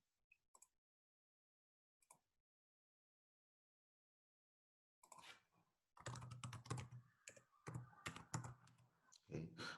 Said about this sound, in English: So let's go ahead and type a VNet